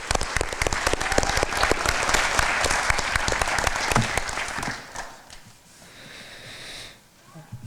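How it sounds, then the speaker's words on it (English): A crowd at a police new-hire swearing-in and awards ceremony claps loudly for about five seconds, then the applause thins and fades to scattered claps and room noise. "Let's give them another round of applause."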